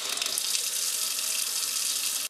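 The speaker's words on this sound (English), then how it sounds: "The faucet is still open from before and I'm letting it run until the air is purged" A faucet on a newly installed reverse osmosis water filter runs steadily to purge air, giving a constant loud hissing rush of water that holds evenly throughout before cutting off at the end.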